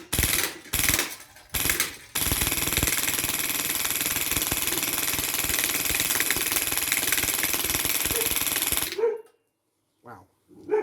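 An HPA Wolverine MTW SBR airsoft gun fires in a few short bursts, then one long sustained rapid-fire stream of loud clattering shots, followed by quiet with faint small handling noises.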